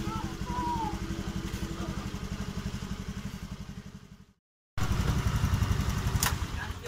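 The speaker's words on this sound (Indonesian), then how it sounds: "motornya di sini kan masih hidup" A Honda Vario scooter with a crankshaft sensor fault code idles close by in an even, rapid putter, briefly cutting out before the steady idle returns.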